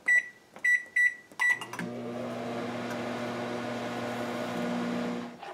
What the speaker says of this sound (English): Microwave this on high power for 1 minute.